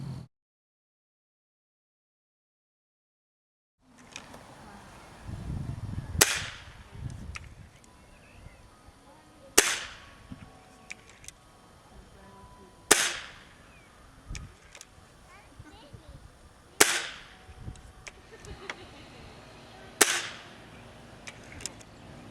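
A Gamo Big Cat 1200 air rifle fires PBA pellets: after a few seconds of silence, five sharp cracks sound at intervals of about three to four seconds, each decaying quickly, with faint handling noise between shots.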